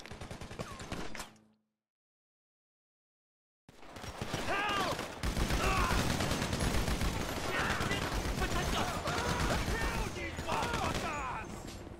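Gunfire in Grand Theft Auto V: a brief burst, a sudden silence, then a long dense fusillade of rapid shots from several guns, loud and continuous, with shouting voices mixed in.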